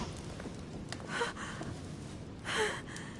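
A woman's breathy gasps in the video game The Council, two short rasping intakes of breath standing out over a low, steady background.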